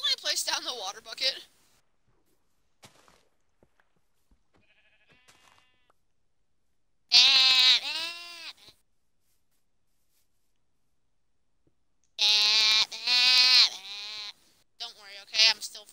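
Several bursts of Minecraft sheep bleating, wavering and fairly close, separated by stretches of near silence.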